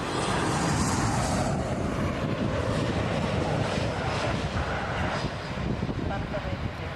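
A WestJet Boeing 737 MAX 8, flight 640 from Calgary, arriving at Toronto Pearson, heard as a steady broadband jet roar that holds loud and constant throughout, with a voice talking over it.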